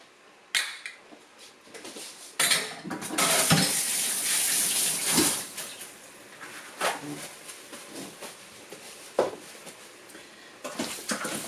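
Gizzards stirred and tossed in a hot pan, giving a broad sizzle with irregular scraping bursts, loudest in the middle stretch and fading to intermittent stirring clatter toward the end.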